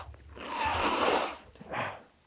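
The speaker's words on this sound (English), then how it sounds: "I gotta blow my nose" A person blows their nose in two forceful, close, noisy bursts, a long one followed by a shorter one, with no talking.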